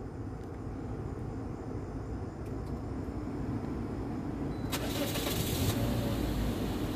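A car engine turning over and catching after being started remotely with a Lilygo T-embed CC1101 radio tool, with no one inside; steady idle rumble throughout, with a brief louder burst of noise near the end.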